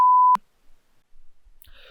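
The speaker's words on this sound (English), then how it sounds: "how you can add the beep sound in your video" A single clean, high beep tone holds for about a third of a second, then cuts off into near silence.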